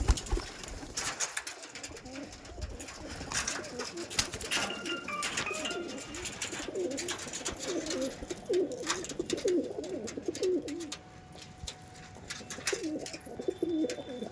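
Pigeons coo steadily in a loft at a Belgharia pigeon fanciers' market, with soft overlapping throaty calls repeating close by over a continuous murmur of background noise and rustling.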